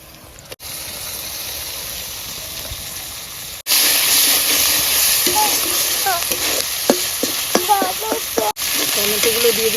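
Ginger-garlic paste sizzles loudly in a hot oiled pan while being stirred, with the hiss jumping up sharply partway through and scraping stir strokes scattered across the steady frying.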